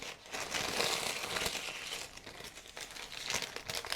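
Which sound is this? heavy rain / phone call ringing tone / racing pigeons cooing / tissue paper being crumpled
tissue paper being crumpled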